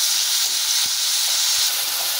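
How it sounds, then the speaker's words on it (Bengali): Ginger, garlic, green chilli and chopped tomato sauté in a pan for an egg curry, giving a steady, close hissing sizzle with a few soft knocks and no talking. "চিড়ে রাখা কাঁচা লঙ্কা আর টমেটো কুচি এগুলো দিয়ে ভালো করে একটু কষিয়ে নেব"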